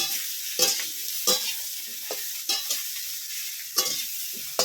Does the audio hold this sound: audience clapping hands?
no